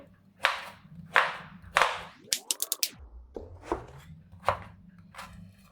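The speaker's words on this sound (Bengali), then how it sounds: "ঠিক এই সাইজের আমি পিস পিস করবো লাউগুলো" Knife chopping a washed bottle gourd into pieces on a board, a series of sharp, close chops in an uneven rhythm with a brief scraping or sliding sound midway, no talking.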